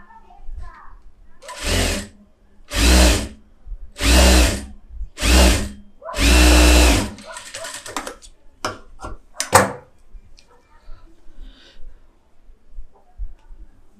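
A tailor's sewing machine runs a rough seam through cloth in five loud, close bursts of whirring stitching, separated by short pauses, followed by a person talking.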